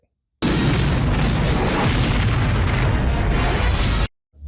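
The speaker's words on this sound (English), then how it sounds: "More running away from explosions." Movie explosions from Rambo III (1988) form a continuous loud roaring blast of rumbling booms and crackle for about four seconds, then cut abruptly to silence.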